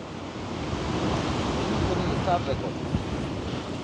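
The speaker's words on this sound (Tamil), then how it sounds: "பாருங்கள், தண்ணியும் வந்து எக்கச்சக்கமாக ஓடிக்கொண்டிருக்குது." Floodwater pours out of an overflowing village pond in the Vanni countryside, a steady, broad rushing roar that stays loud and continuous throughout, with wind buffeting the microphone.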